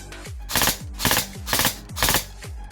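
A Bolt airsoft recoil rifle fires four close, loud bursts, each a sharp mechanical clatter with a thumping recoil, spaced about half a second apart.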